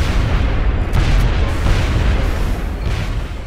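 An explosion in a turn-based tactical video game: a loud, sustained, broadband boom and rumble that fills the whole stretch at steady strength, with no voices over it.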